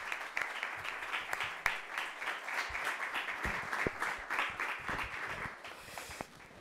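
Audience at a book presentation applauds warmly, sustained dense clapping with a few sharper individual claps, moderately distant and steady throughout.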